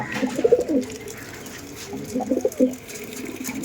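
Andhra pigeons cooing close by in two short bursts of soft, throaty calls separated by a brief quieter pause, with faint background noise.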